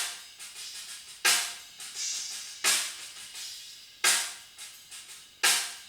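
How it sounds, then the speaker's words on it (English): Bottom-miked snare drum hits in a metal drum production, sent through a Lexicon PCM 70 tiled-room reverb: four loud, sharp strikes each trailing into a bright, long wash of reverb. "The snare bottom, that's going to the PCM 70."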